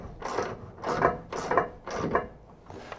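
Open-ended wrench tightening a bolt on a B2 carrier, four short rhythmic ratcheting metallic scrapes close by, each followed by a pause, with no talking.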